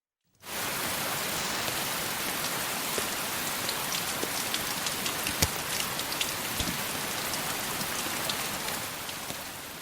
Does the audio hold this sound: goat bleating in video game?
no